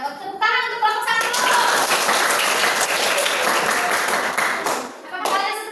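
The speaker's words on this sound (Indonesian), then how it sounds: "Tepuk tangan untuk kelompok 1." Classroom of fourth-grade pupils clapping together for a group's presentation, a dense burst of hand claps lasting several seconds that swells and then tapers, with children's voices mixed in near the start and end.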